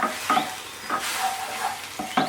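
Spice paste with garlic, ginger and yogurt stirred in a pan over a low flame, with steady soft sizzling and repeated scraping strokes of a spoon, close and moderately quiet, no talking.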